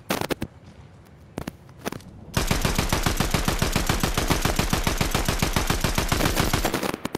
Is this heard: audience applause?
no